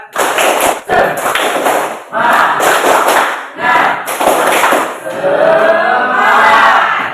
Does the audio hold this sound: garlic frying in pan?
no